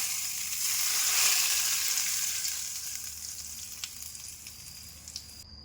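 Dried red chillies crackle and sizzle in very hot oil as a tempering for a chutney, a dense steady hiss that swells loud early and eases off, with a few sharp pops toward the end.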